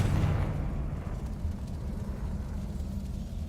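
In Hogwarts Legacy, a Confringo spell blast erupts into a dense, rumbling burst that starts loud and settles into a sustained low roar, with no voices over it.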